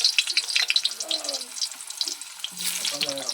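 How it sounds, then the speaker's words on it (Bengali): Potatoes frying in oil in a wok for a village-style desi chicken curry give a loud, steady sizzle with crackling bursts and faint stirring throughout. "প্রথমে আলুগুলো ভেজে নেব।"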